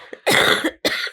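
Two loud, close coughs, the first longer and the second shorter, sharp and harsh right into the microphone.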